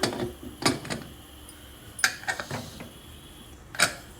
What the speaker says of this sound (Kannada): ಲಿಡ್ ಮುಚ್ಚೋಣ.